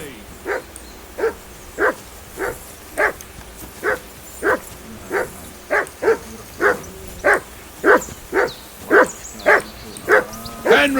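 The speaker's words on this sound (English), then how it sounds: "call that dog to heel" A dog in the video game Kingdom Come Deliverance 2 gives about seventeen evenly spaced barks with a whimpering edge, steady and fairly close.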